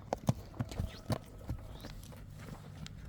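Bürküt, a stallion in Shekaftar village in Kyrgyzstan's Chatkal district, walks away to his herd, his hooves clip-clopping in an irregular sequence of sharp, fairly close steps that fade toward the end.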